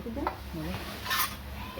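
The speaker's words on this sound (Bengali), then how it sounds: "তেলে লঙ্কা ভেজে নেব" Chilies frying in oil in a village kitchen crackle and sizzle with a stirring scrape, short and close, with no voices.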